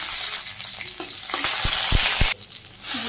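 Cumin seeds and two green chilies sizzle and crackle in hot oil, a steady close frying hiss broken by a few stirring knocks and a brief lull before the sizzle returns.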